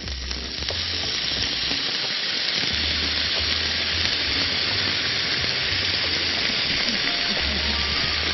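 Vinegar poured into a hot frying pan with vegetables, giving a loud continuous close sizzle and hiss of evaporation, with a low rumble underneath.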